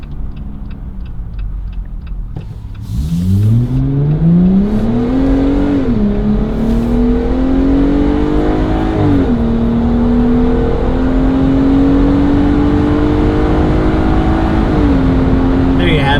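A 2020-or-later Jeep Gladiator JT with an MBRP single rear exit cat-back exhaust is driven at wide open throttle, its loud engine note climbing steadily, dropping briefly at each gear change, then rising again, heard from inside the cab.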